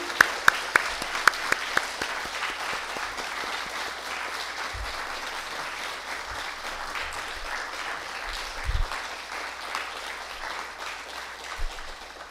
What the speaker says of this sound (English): let us give them a big round of applause once again